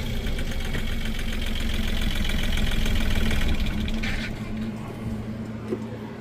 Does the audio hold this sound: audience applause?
no